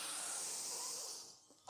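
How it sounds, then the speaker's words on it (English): A strong exhale through the nose during a yoga breathing exercise, a soft steady airy hiss that fades out before a sharp sudden breath at the end, no talking. "So go ahead and inhale. Strong exhale."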